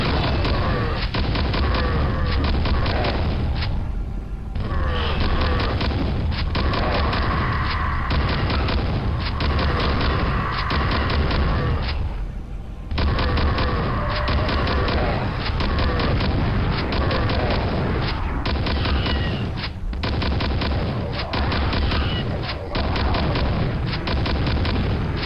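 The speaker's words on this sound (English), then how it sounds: "Get a new weapon. It's called rotary shotgun." A rotary shotgun blasting away in Quake, a heavy booming barrage that keeps going almost without pause, loud and dense, with only a couple of short gaps in the firing.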